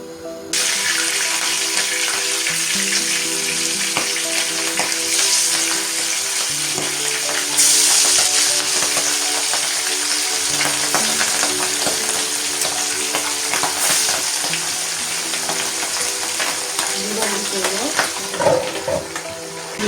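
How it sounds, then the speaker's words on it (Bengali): Steady, crackling sizzle of hilsa fish frying in hot oil, close and continuous, with a faint musical backing underneath. "মাছটা সুন্দর মতো ভাজা হয়"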